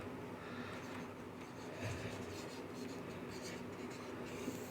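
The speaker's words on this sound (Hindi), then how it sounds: "चलिए उसको भी लिख देता हूँ मैं साथ" A marker writes during a lecture, producing faint, continuous squeaky scratching strokes against a low, steady room hum, with no one speaking.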